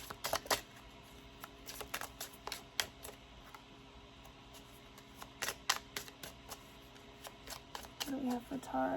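Tarot cards from a Rebel deck being shuffled close up, a series of crisp riffling snaps and flicks in irregular bursts, with a faint voice coming in at the very end.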